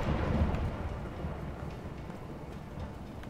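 Deep rumbling thunder with rain in the prison-escape game A Way Out, a low sustained roll that swells at the start then settles into a steady dull wash.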